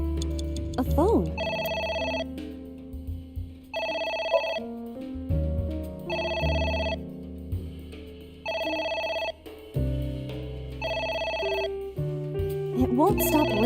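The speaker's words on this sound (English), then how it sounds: "It won't stop ringing." A telephone rings repeatedly in the video game AI: The Somnium Files, with about five loud electronic ring bursts spaced roughly two seconds apart over steady game background music.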